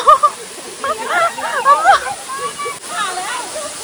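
Waterfall water rushes as a steady hiss in the background at a waterfall and pool. Excited talking sits over the roar for most of the time.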